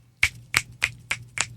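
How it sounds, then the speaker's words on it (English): Five crisp finger snaps at a steady, slightly uneven pace, close to a microphone with quiet background between them. "Let me back up from the mic a little bit so I can snap my fingers"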